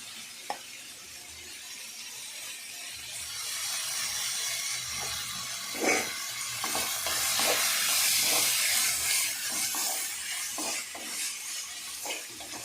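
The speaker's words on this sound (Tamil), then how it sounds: "தக்காளி வெங்காயம் நல்லா வதங்கி வரைக்கும்" A soft steady sizzle of onions and tomatoes sautéing in a pan, with occasional light scraping and stirring knocks, no talking.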